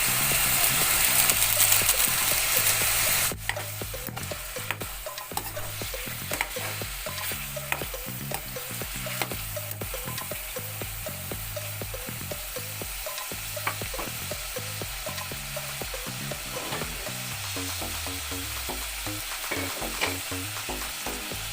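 Beef caldereta sizzles loudly in a pan as it is stirred continuously, the frying hiss running throughout with rapid, rhythmic spatula scrapes and clacks against the pan.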